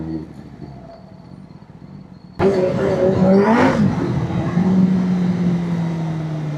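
A Kawasaki ZX-10R motorcycle engine idles low, then bursts into a loud, close rev and accelerates hard, the pitch climbing and shifting as power builds and holds.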